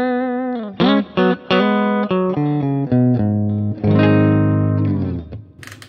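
An electric guitar on its bridge pickup, played through a Kemper Profiler amp profile, sounds a short run of driven, sustained notes and chords, loud and alone, ending in a held chord that fades.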